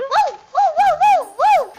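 A voice imitates a dog barking, giving four separate yelping, barklike calls in a comic rhythm, close and fairly loud.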